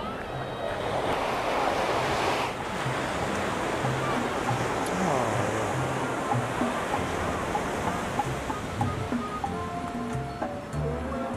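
Ocean surf washes steadily onto the beach at Chacala, Nayarit, Mexico, a continuous loud roar of breaking waves mixed with wind buffeting the microphone, with faint voices now and then underneath.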